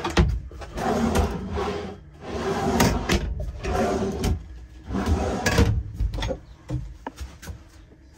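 Drawers slide open and shut several times in a row inside a 2002 Chinook Destiny Class B+ motorhome closet, rumbling wooden scrapes followed by soft knocks, close and fairly loud.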